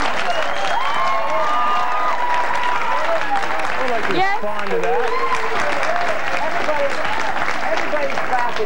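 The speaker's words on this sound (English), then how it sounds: "Everybody's clapping here." A studio audience at a 1994 talk show claps loudly and steadily the whole time, a dense, sustained wash of applause. A person's voice talks over it.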